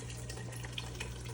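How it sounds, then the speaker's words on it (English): Chicken broth pours steadily into a gumbo pot of chicken and sausage, a close, continuous liquid splash and trickle with no talking. "So we're gonna add the chicken broth to it."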